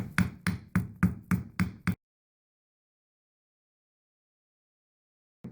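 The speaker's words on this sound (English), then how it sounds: "Just keep tapping from side to side. It helps it from not breaking the gasket." Seven sharp, evenly spaced taps on a Mercury outboard carburetor as it is knocked side to side to work it loose from its gasket, close and fairly loud, then a long silence and one faint tap at the end.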